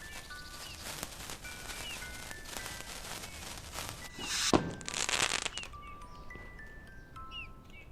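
Fireworks being tested in the video game No, I'm Not a Human go off as a sharp crackling burst and fizzing spray in the middle, set against quiet ambience with faint repeated bird-like chirps before and after.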